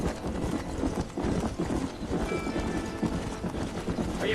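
Rhythmic clip-clop of horse hooves at a steady trot in the video game Red Dead Redemption, close and continuous, with a brief faint whinny-like tone midway.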